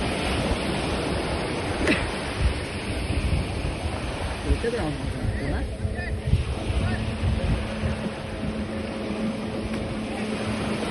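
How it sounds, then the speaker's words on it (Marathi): Speedboat running on the sea off a Konkan beach, a steady broadband engine and water rush with wind noise throughout, with voices talking faintly in the background. "स्पीड बोट."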